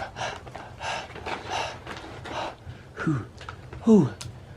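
A man imitates someone breathing through a peephole, making a few short gasping breaths and a snort-like inhale that grow louder at the end. The breaths come between bursts of his own speech.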